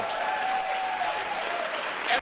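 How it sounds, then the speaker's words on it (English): Sustained applause from a large audience at a Faith and Freedom Coalition event, dense clapping at steady volume that cuts off abruptly at the end. "there's a shitload of people there to applaud it"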